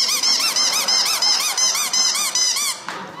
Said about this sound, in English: I thought it'd be funny to make the cat squeak